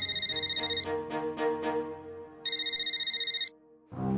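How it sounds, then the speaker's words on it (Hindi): A telephone rings with an electronic ringtone, sounding in two bursts separated by a short gap, loud and close, in a military-post setting. There is no talk during the ringing. "एलओसी पार से फोन है।"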